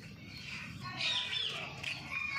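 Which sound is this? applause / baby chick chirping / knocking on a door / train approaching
baby chick chirping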